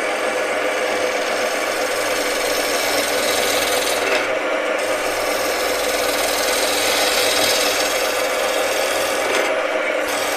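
A skew chisel cuts wood on a lathe while turning a sphere box, making a continuous close hiss and rasp. It swells and eases slightly as the cut moves along the spinning piece.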